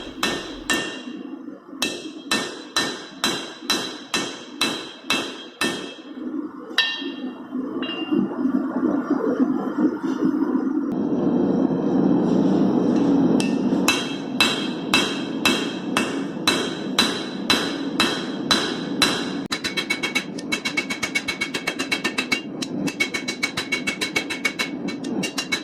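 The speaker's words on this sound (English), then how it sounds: "So I need to make sure to turn it over and hit on both sides to make sure they stick before it gets too cold." A hammer forges a Damascus steel billet on an anvil, ringing metallic strikes in a steady rhythm that pause briefly under a low roaring hum, then resume in a faster, continuous run of loud, close blows.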